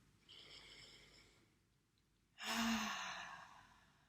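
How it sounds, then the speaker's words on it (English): Two breaths close to the microphone: a soft inhale, a pause, then a louder, deeper rushing breath that slowly fades. "taking a nice deep breath in as we sit down"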